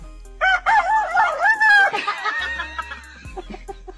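A rooster crows once, loud and close, with a wavering drawn-out call followed by softer clucks and scattered small noises.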